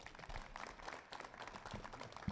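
A university audience at a ceremony for the Faculty of Biological Sciences gives warm applause to welcome a speaker, the faint, patchy clapping continuing steadily from a small room crowd.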